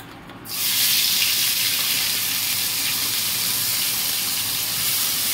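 A ground paste of onion, ginger, garlic, tomato and green chilli hits a hot pan, setting off a sudden, loud, continuous sizzling hiss that holds steady without any voices.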